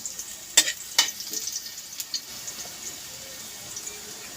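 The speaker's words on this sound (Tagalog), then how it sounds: "Gisa na natin." Garlic hits hot oil in a kawali and sautés with a crackling sizzle: two sharp bursts at the start, then lighter scattered pops and a soft steady fry close by.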